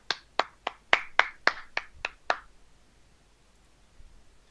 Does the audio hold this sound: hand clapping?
yes